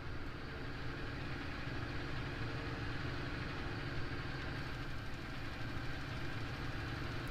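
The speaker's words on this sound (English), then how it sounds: "So now I've got a fast tractor." A tractor engine from Farming Simulator 19 drones at a low, steady idle-like hum, faint and unbroken throughout, with no talk.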